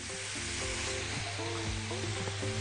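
Two spoonfuls of butter melting and sizzling in a pot before flour is added for a béchamel, a steady close frying hiss with soft stirring scrapes.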